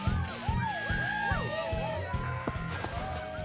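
A crowd cheering and whooping, rising and falling cries layered over a steady roar of many voices, loud and close.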